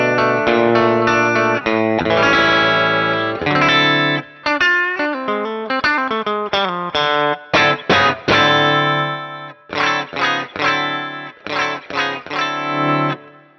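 Kinman Telecaster bridge pickup played clean through a Deluxe Reverb amp model on an XFX 3 unit, loud and close with no talking, starting with sustained strummed chords and moving into choppy staccato chord stabs with short gaps.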